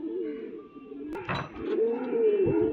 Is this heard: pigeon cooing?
yes